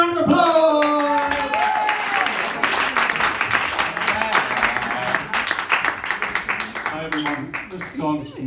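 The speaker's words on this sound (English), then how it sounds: "Give him a round of applause." At a London cabaret show, an audience applauds a singer being introduced, with cheers and whoops at the start under the clapping, which stays steady before thinning toward the end.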